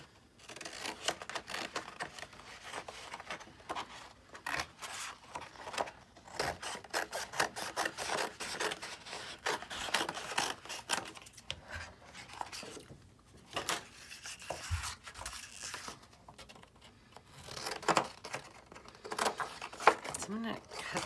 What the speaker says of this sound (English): I'm gonna use these bigger scissors just to get this off of here.